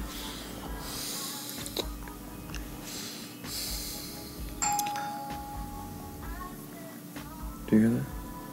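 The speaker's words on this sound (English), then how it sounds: "Is it the doorbell?" A doorbell chimes twice, a clear ringing tone inside a room, heard over low background hum and a murmur of activity.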